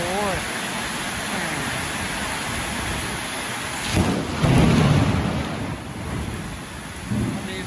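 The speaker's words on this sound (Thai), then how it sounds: "สียงฟ้าร้องไปด้วยนะครับ" Heavy rain pours steadily while thunder rumbles and cracks nearby in a storm, with a couple of louder surges partway through.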